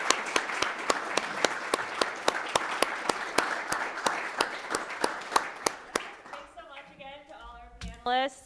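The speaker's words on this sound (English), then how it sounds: "Round of applause." A forum audience gives a round of applause, a steady rhythmic clapping that dominates for about six seconds before fading as voices begin talking over the room.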